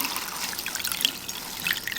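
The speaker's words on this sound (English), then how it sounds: "I'm now just cleaning off the skin cleanser with the wet towel." Water trickles and drips softly from a wet towel as skin cleanser is wiped off a hand, close and gentle with small splashy droplets.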